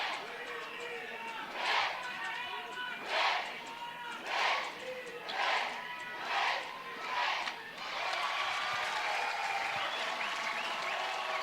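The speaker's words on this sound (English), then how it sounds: "This crowd is into it." A crowd at a 2024 Alabama NCAA softball regional game claps and shouts in a series of rhythmic bursts, then breaks into a sustained, continuous roar of cheering heard from within the stands.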